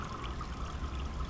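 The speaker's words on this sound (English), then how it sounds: "So that the water sprays down into the tank." Water sprays steadily from holes drilled in a pipe down into an indoor tilapia nursery tank, a constant close hiss and trickle without pause.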